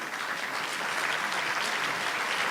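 An audience applauding at a theatre festival, dense steady clapping from many hands that holds evenly throughout, full and close.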